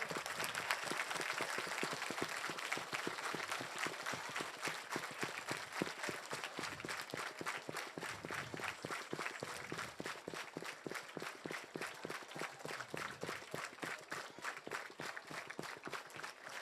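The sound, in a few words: audience applauding loudly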